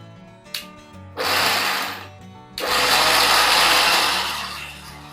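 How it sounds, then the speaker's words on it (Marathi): Kitchen mixer grinder whirring as it blends moong dal batter with green chillies, cumin and salt, two loud sustained motor runs with a short pause between them, preceded by a brief click. "मिक्सरला लावून घेऊया आता. चल लावून घे पटापट."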